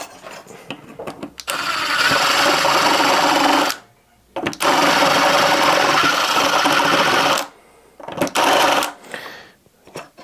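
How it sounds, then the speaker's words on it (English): A step drill grinds through an aluminium LED profile in two long, loud, whirring bursts separated by a short pause, followed by a brief final spurt, close up with no talking. "So then change it over to the step drill"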